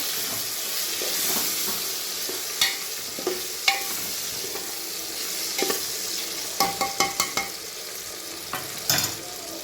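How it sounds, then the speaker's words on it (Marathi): Tomato and potato pieces stirred and sautéed in a pan for simple khichdi, a steady soft sizzle with scattered clinks and scrapes of a spoon against the pan, close and without talk. "त्यानंतर हे टोमॅटो आणि बटाटा ते पण छान असं परतून घ्यायचं"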